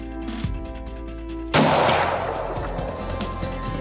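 A single loud rifle shot fired at a deer during a hunt, one sharp close blast followed by a long rolling echo that fades slowly, with quiet outdoor ambience before it.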